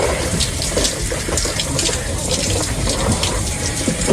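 Water pours and splashes steadily as someone bathes standing up, a close, continuous gushing spatter with no pauses.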